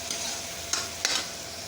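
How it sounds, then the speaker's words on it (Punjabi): Masala roasting in a pan for a Punjabi potato and eggplant sabzi: a steady, close hiss of frying with a couple of brief scraping stirs, no voices. "ਮਸਾਲਾ ਆਪਣਾ ਭੁੰਨਣ ਲੱਗਿਆ ਜੀ"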